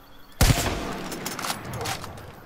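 Gunfire in the video game Far Cry 5: one sharp, loud shot followed by a ragged spill of further shots and echoing reports that fade over about two seconds.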